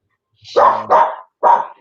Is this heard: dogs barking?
yes